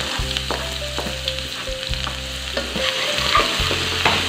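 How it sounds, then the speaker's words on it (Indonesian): Spice paste stirred and sautéed in hot oil in a pan, with a steady loud sizzle and the repeated scrape of a utensil against the pan in an even rhythm, no voices. "Sekarang kita lanjut aja untuk tumis bumbunya."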